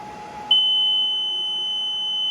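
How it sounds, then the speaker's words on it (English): A reflow machine sounds a steady, loud electronic beep to signal that its soldering cycle is done. The single high tone starts abruptly and holds without a break, over a faint background hum. "right now we have the beep, and which means the process is done"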